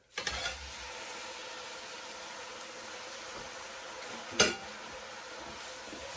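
Seared beef pieces stirred into a butter and flour roux in a pot, a steady soft sizzle running throughout with a brief louder scrape or clatter near the end, no talking.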